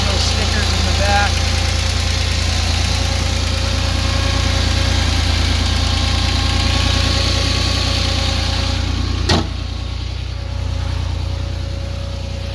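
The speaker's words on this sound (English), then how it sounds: "Here's the engine running." An older car's engine idles at a steady, even, rumbling tone for about nine seconds before a click, after which it carries on slightly quieter; the speech tag suggests possible talk, though none is transcribed.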